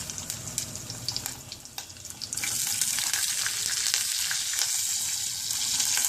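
Green chillies frying in hot oil for wheat rava upma, with light clattering as they are dropped in, then a steady, close sizzle that swells and holds loud to the end.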